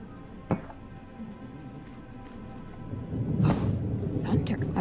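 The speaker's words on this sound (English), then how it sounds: "I wasn't expecting a storm tonight." Thunder rolls through a stormy night in the video game Twelve Minutes, a steady wash of rain giving way to a louder, broad rumble near the end, with a sharp crack early on.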